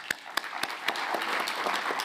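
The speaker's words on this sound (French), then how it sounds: "On peut l'applaudir, je pense." Brief round of audience applause at a project conference closing session, a few distinct sharp claps at first that quickly thicken into a steady patter.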